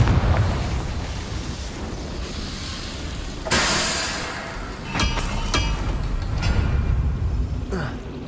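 Confringo fire spell exploding in Hogwarts Legacy, a loud burst followed by several crackling blasts and rumbling booms, with no talking.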